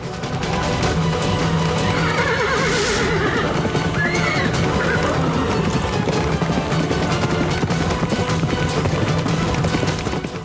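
A horse neighs in a Kannada television drama scene, its whinny rising partway through a dense, loud, continuous bed of galloping, action noise and score.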